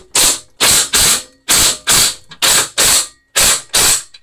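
Power tool, likely an impact driver, driving bolts on an engine: about eight loud, close, evenly spaced bursts of rattling hammering separated by short silences.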